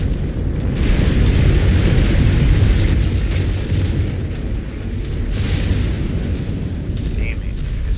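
Video game explosions during a tank battle, a dense, continuous roar of booms and rumbling blasts that stays loud throughout, with heavy low-end rumble and no clear gaps between detonations.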